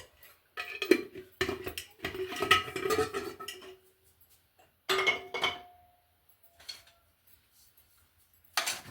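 A spoon scrapes and clinks against a pot while ragi mudde ingredients are stirred together with salt, in irregular bursts with brief pauses and a final knock, close and moderately loud.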